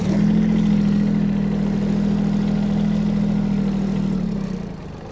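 A Mitsubishi MT-155 Japanese mini tractor engine runs at a steady, loud, close idle with an even low drone that fades slightly at the end, with no voices.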